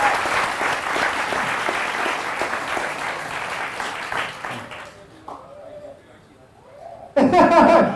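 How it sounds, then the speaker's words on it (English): Audience at a book launch claps in a sustained round of applause for about five seconds, then fades to quieter talk before a short, loud burst of clapping returns near the end. "Please just give him a round of applause for you after these questions."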